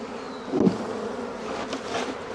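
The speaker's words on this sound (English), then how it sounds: "We got a lot of bees roaming around over here" Honeybees buzzing around a hive while a nuc is installed, a continuous close swarm hum with one dull knock near the start.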